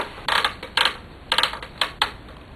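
Knitting machine carriage pushed slowly from left to right across a loose row, giving bursts of clattering mechanical clicks in uneven groups with short pauses between, close and without talk.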